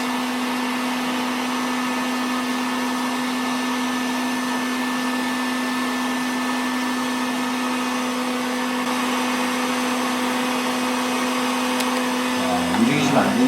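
An EK liquid-cooling loop with acrylic tubing in an MSI MEG Tundra build runs with a steady pump hum and whir, coolant bubbling inside, close and constant throughout, with a brief disturbance near the end.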